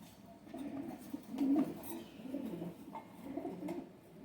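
A pair of Kaasni pigeons, a female and a male, coo softly nearby in low, rolling calls that repeat over a faint outdoor background.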